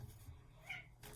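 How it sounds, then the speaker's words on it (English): A house cat gives a single short, faint meow, quiet and alone against low room noise. "that's my cat agreeing."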